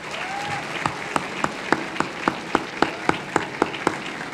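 A crowd at a youth merit award ceremony in a government palace applauds, and louder claps fall into a regular rhythmic beat above the steady wash of hands.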